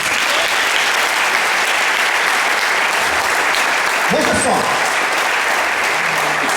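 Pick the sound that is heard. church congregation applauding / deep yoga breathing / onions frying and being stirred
church congregation applauding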